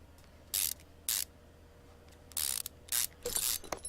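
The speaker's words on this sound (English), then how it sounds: "So, rear wheel hub first. As we get that in there. We'll screw her back in here." Ratchet bursts from a game mechanic tightening a rear wheel hub in Car Mechanic Simulator 2015, five short loud bursts of clicking, two early and three close together near the end, with no talk.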